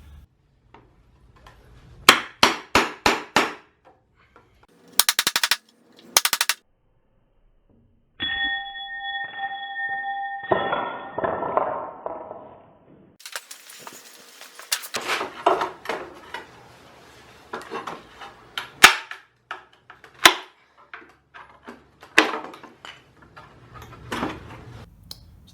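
Hammer blows on reclaimed pallet wood as nails are punched through the boards: sharp clustered metallic knocks in several bursts, with a ringing tone in between and scattered clanks and taps, close and fairly loud.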